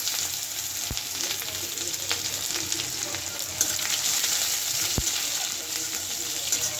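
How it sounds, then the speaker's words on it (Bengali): Onions frying in a kadai with bay leaf and cumin, giving a steady close sizzle with occasional stirring clinks and soft knocks, no talk over it. "পেঁয়াজটা হালকা ভেজে নেব"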